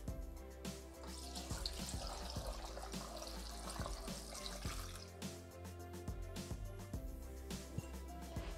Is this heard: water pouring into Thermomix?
yes